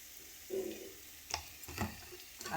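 Radish lightly frying in a pan for a bitter gourd chorchori gives off a faint, steady sizzle, broken by a few soft scrapes and knocks from stirring.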